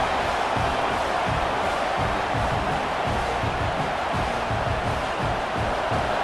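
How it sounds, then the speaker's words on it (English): A dense, steady roar from a college football video game stadium crowd fills the whole stretch, loud and continuous with no breaks or distinct cheers standing out. "listen to this crowd noise. This stadium is vibrating."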